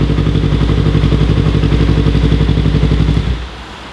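A running engine chugs with a steady loud rhythmic throb, then abruptly winds down and stops, leaving only a faint background hum near the end.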